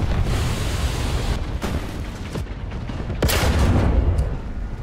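War Thunder tank battle with near, heavy gunfire and booming impacts over a constant rumbling engine bed, including a few sharp loud blasts.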